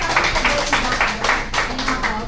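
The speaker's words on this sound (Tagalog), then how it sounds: "Palakpak tayo dyan." A live audience at a business preview event claps together, a dense, steady patter of many hands filling the room for a couple of seconds at moderate loudness, close by.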